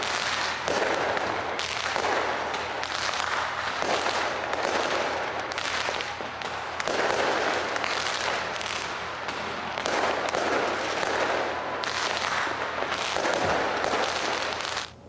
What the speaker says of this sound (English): New Zealand was among the first to welcome 2025 with a stunning fireworks display from Auckland's Sky Tower as the clock struck midnight